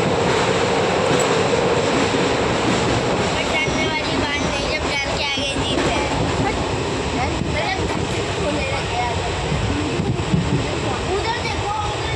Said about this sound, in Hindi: देखिए फाइनली ट्रेन स्टेशन पे, सीतापुर स्टेशन पे पहुंच गई।